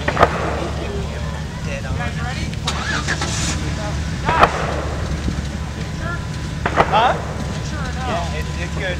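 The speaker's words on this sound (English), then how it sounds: "Give it a little bit of gas. Get a little bit of gas. In reverse." Stuck Jeep JK engine idling and revving in reverse during an off-road recovery, a steady low rumble with a few short rev surges, heard outdoors under people talking.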